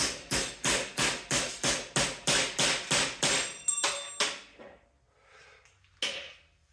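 Metal is hammered against a dolly in a run of about ten loud, ringing, evenly paced strikes that slow and fade, followed by a quieter pause and one last clank.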